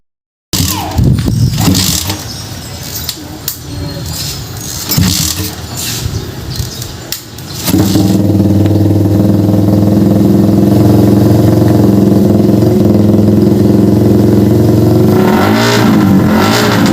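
A Raider 150 drag bike engine being tuned with test carburetor jetting. It starts with uneven revs and blips, then settles into a loud, sustained, buzzing high-rev drone that lasts to the end.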